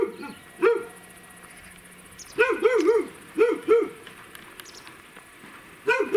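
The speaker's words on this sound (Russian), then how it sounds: "Лает уже, но не так яростно." A village dog in rural Russia barks in short bursts of two or three, with long pauses between them, fairly close, while the surroundings are otherwise quiet.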